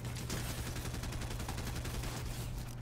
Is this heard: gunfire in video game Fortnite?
yes